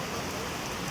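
Heavy rain pours down steadily, a dense, loud, even hiss of drops that fills the whole second with no pauses and no voices.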